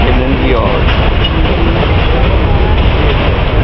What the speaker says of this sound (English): He's a long train. The reason he has to creep is because he's getting into the yard.